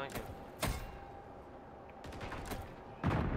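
Gunfire in the video game Call of Duty MW3, with a few sharp bursts of shots separated by quieter stretches, fairly faint in the mix.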